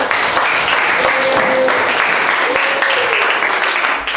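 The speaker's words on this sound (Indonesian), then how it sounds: "Baik, tadi kelompoknya Januari dan Regi berikan tepuk tangan dulu." Classroom applause for a student group after their presentation, a dense steady patter of many hands clapping throughout, with faint voices mixed in.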